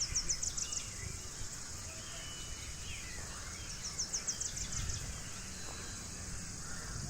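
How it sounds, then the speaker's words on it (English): Unseen birds call from trees outdoors, giving short repeated chirping bursts near the start and again midway over faint insect-like background hum. "I'm hearing the sound, but I'm not able to see any of the bird here."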